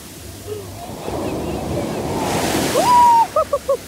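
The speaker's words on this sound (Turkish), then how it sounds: "Birazdan çok büyük bir dalga gelir." Ocean waves break and wash steadily onto a beach in a continuous near roar, with a voice talking over the surf and a few short higher sounds near the end.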